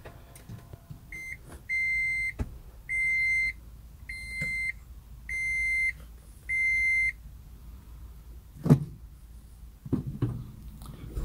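Toyota Prius Plug-In starting up: a series of six short electronic beeps in a regular pattern, each with a clear high tone, followed by a couple of soft clunks and thuds in a quiet cabin.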